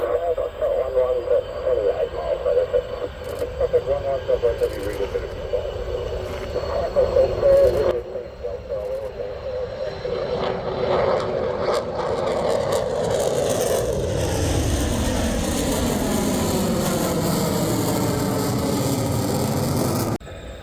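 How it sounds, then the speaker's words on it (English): A military jet, an F-35A or PC-21, taxis past on an airfield, its engine a loud steady whine and roar that swells and sweeps in pitch as it draws near, with a brief voice over the noise. "number 2 is coming in to taxi right now"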